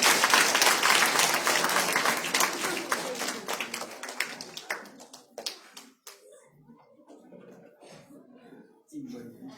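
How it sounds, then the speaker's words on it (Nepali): A church congregation in Kathmandu claps to welcome the pastor's wife, the dense applause strong at first, then thinning into scattered claps and fading out as a voice begins speaking. "उहाँलाई हामी ताली बजाएर हामी स्वागत गर्नेछौँ"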